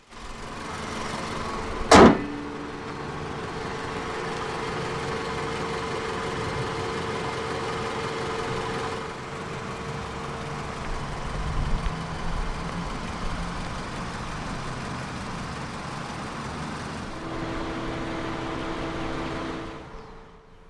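A 2014 Toyota Camry 2.0 G petrol engine cranks with a sharp burst on start-up, then settles into a steady, smooth idle heard close and continuous to the end.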